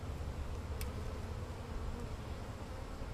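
Bees buzzing close by during a bee relocation: a continuous low, dense drone with a faint sharp tick near the start, no voices.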